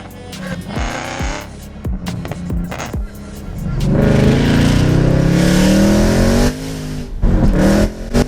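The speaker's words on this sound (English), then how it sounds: "let's see what this 700 plus brake horsepower Mustang is like" Roush-supercharged 5.0-litre V8 Ford Mustang GT, modified to over 700 horsepower, blipping its throttle in short sharp bursts, then holding a long loud rising rev before dropping back to idle and snapping a few more quick revs, close by.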